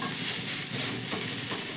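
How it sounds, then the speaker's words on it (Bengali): A sweet potato and vegetable filling is stirred in a hot pan, with a steady sizzling hiss and soft scraping and shuffling as the mixture is moved around. "এবার খুব ভালোভাবে মিশিয়ে নেব।"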